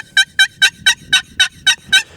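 Turkey box call producing a run of eight evenly spaced, sharp yelps, loud and close, with nothing else heard around them.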